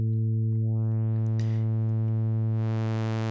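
A XAOC Devices Odessa oscillator module holds a steady, buzzy synthesizer tone rich in harmonics. Its upper partials open and brighten as the spectral tilt changes, with no voices.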